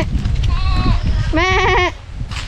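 Close goat on a rural farm lets out a single loud wavering bleat midway, preceded by a person voicing an imitation of the bleat over outdoor background noise.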